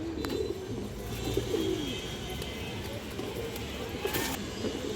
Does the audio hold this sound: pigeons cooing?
yes